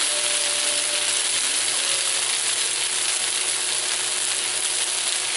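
Beef frying in a pan, giving a steady, dense, loud sizzle that hisses continuously and evenly from start to finish, close up and with no talk over it.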